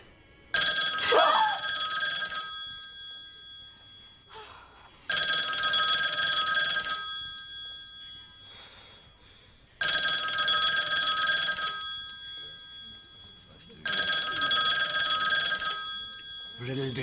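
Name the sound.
telephone ringing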